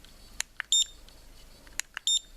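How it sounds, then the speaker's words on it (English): A GitUp F1 action camera beeping as it takes a picture: two short, close electronic beep sequences with faint clicks between, in an otherwise quiet room. "you just get a beep when you take a picture"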